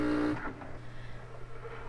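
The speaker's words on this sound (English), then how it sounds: "What you're hearing are the machines displacing the air in the chambers." Autoclave steam sterilizers, including a compact Statim unit, push air out of their pressurized chambers with a brief mechanical whir and hum that quickly settles into a low, steady machine drone nearby.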